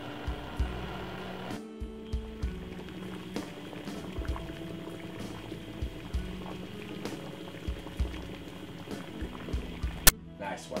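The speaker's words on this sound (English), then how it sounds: "So now this has been boiling roughly so 14 minutes now." Quiet bubbling and rolling of water boiling eggs in a pot, about 14 minutes into the boil, with soft irregular pops and a brief sharp clink near the end.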